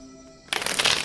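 Tarot cards are shuffled by hand in a quiet room, a dense papery riffle that starts abruptly halfway through and continues loud and close to the end.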